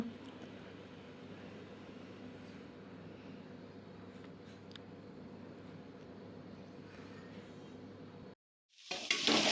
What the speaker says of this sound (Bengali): সয়াবিনটা মশলার সাথে একসাথে কিছু সময় কষিয়ে তারপর ঝুল দেওয়া হবে